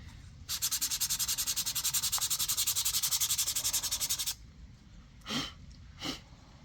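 Hand sanding of old clear coat with 100 grit sandpaper, a rapid rhythmic scrubbing of even back-and-forth strokes for about four seconds, then two short separate rubs.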